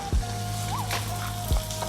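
Dried red chillies frying in hot oil give a soft, steady sizzle with a faint whine behind it and a couple of brief clatters.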